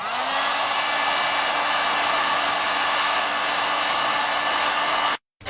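A hot air blower heats the ends of a white PVC tube, giving a steady, loud, continuous whoosh of blowing air that runs unbroken and then cuts off abruptly near the end.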